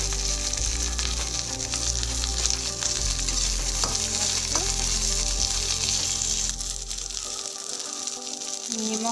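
Chopped onions hit hot oil already holding whole cumin and ginger leaves, giving a loud, steady close-up sizzle with occasional stirring scrapes, and the hiss thins out near the end.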